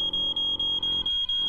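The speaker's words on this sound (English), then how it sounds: "I have to check your fire alarm." A fire alarm being tested gives a rapid series of loud, piercing electronic beeps in a steady rhythm, close by, with a brief pause before the last chirp and no talking.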